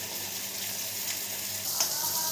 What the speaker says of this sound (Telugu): ఇలా కొబ్బరి ముక్కలు వేపుకోవాలి